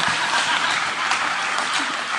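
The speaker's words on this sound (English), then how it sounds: "Let's give another round of applause to this group" Round of applause from an audience for a farm-industry panel, dense steady clapping filling the whole stretch at a moderate, even level.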